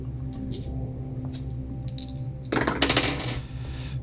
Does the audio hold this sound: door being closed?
no